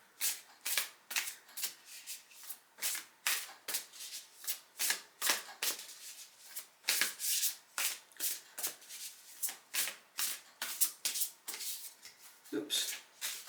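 A deck of tarot cards being shuffled in rapid, repeated riffling bursts at close range, a steady crackling rhythm that runs throughout with brief pauses between handfuls.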